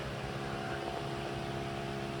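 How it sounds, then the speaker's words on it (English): A loud electric fan runs in an accommodation room in Colombia, giving a steady, unbroken whirring hiss with a faint motor hum throughout. "All they've got is this ridiculously loud fan"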